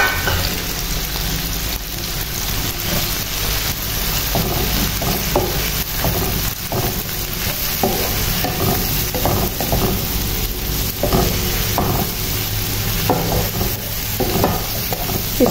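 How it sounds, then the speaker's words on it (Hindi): Tomatoes and spices frying in a pan for okra masala, a steady close sizzle with repeated scraping strokes of a spoon stirring throughout, no voices. "इसको भी हमने इतना भून लिया कि टमाटर सॉफ्ट हो जाए"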